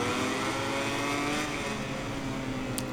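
Honda MotoGP racing motorcycles in the MotoGP 21 video game make a steady, loud, high-pitched engine drone that holds at full throttle down a straight, with no voice over it.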